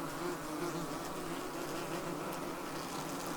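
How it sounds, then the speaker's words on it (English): Dense, steady buzzing of many yellow jacket wasps flying all around a large nest, a continuous droning swarm at close range. "you're hearing all this surround sound noise here of wasps on the wing"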